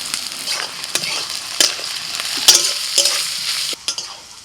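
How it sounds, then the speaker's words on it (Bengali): Onions fry in oil in a Bengali home kitchen, crackling and sizzling close up, with sharp spatula scrapes and knocks against the pan at irregular intervals and no voices. "প্রথমেই আমি একটু পেঁয়াজ ভেজে নেব"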